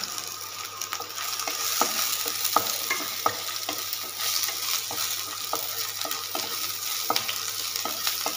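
Green chilies and cashew nuts frying in a pan, a steady close sizzle with scattered crackles and occasional stirring scrapes throughout, no voices.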